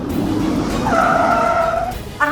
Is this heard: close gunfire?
no